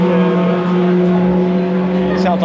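A race car at Brands Hatch Indy circuit, suffering a suspected cam or valve train fault, runs close and loud with a steady droning engine note and a rough, spluttering edge as it revs.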